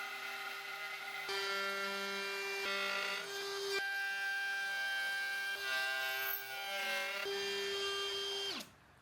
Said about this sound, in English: give it a good hard routing